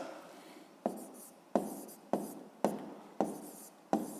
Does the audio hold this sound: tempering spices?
no